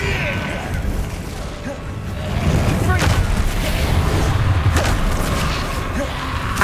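Spell blasts from Hogwarts Legacy combat: a steady rumble of game ambience and music, then a series of sharp, loud booming impacts crackling through the middle and latter half, fairly close.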